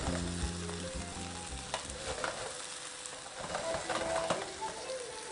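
Shrimp with garlic fry in a pan for a Spanish tapa, giving a steady close sizzle with some stirring and clinking, and faint speech in the background.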